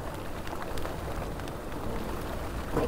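Light rain patters steadily throughout during a jeep safari in Kaziranga National Park, a soft even hiss of drops without any voices.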